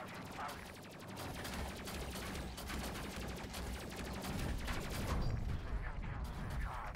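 Rapid, continuous gunfire rattles through a Space Crew space-battle game as a crew focuses fire, a fairly quiet, sustained stream of shots and mechanical clatter.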